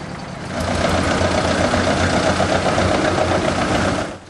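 A 1970 DAF 90 hp Dutch truck runs at an outdoor vintage vehicle meet, its engine idling with a steady, rough, knocking rumble that fades in, holds close and even, then drops off at the end.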